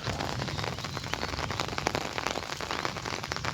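Fine drizzle coming down in a rural village at Devgadh Baria during the monsoon, a continuous even patter with small crisp drop ticks, close and moderately loud throughout.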